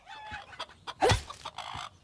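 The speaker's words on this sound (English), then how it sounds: "Can't beat a game where you can kick chickens" Video game chickens in Fable cluck and squawk in short bursts, one louder squawk in the middle, with gaps of near silence between the calls.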